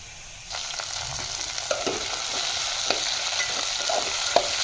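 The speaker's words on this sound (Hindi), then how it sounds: "भिंडी मैंने डाल दी, हरी मिर्च वगैरह सब डाल दी। इसे मैं हल्की तरीके से भूनूंगी।" Okra and green chilies fry with cumin and asafoetida in a pan, a loud continuous sizzle punctuated by several sharp spatula scrapes and taps at irregular intervals, close up with no voices.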